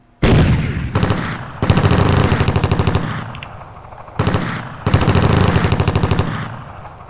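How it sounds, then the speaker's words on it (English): Repeated bursts of machine-gun suppressive fire in the wargame WinSPMBT, a Greece versus Turkey battle: loud, fast rattling volleys stopping and restarting several times, with echoing tails between bursts. "let's use some suppressive fire"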